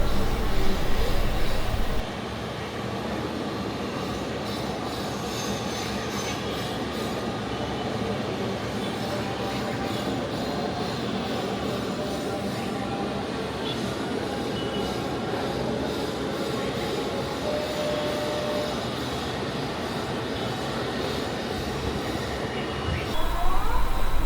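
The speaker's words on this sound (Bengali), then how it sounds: "এই মুহূর্তে ল্যান্ডিং জোন দিয়ে সরাসরি অবতরণ করলো বিমানটি" Airplane landing at Shahjalal International Airport, Dhaka, heard from the landing zone at Dolipara Boroitola: a loud, steady broadband roar holds for about twenty seconds, with a softer, quieter stretch at the start and again at the very end.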